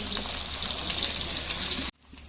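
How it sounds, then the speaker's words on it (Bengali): Loud, close sizzle of prawns frying in oil, a constant hiss that cuts off abruptly near the end. "ফার্স্ট চিংড়ি মাছ ভেজে নেওয়া হচ্ছে"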